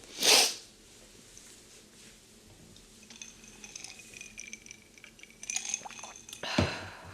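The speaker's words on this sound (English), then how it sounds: "Oh, I feel like I'm going to sneeze." A single sharp sneeze bursts out at the start, followed by quiet room noise, a few faint clinks and another short burst near the end.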